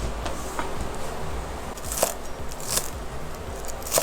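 A knife chops fresh cilantro on a cutting board, making soft, quick taps and crackles in an irregular rhythm, close and moderately quiet.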